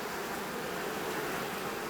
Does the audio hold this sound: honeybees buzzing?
yes